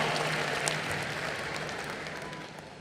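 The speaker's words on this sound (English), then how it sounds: "Round of applause to you." Audience applause fills a hall at the closing ceremony of the International Film Festival of India, a dense, steady wash of clapping from a large crowd that fades slightly toward the end.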